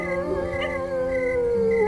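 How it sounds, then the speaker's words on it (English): Dogs howling together in long, sustained, wavering tones that rise and fall, loud and close with no talking. "their happy howls would fill the air"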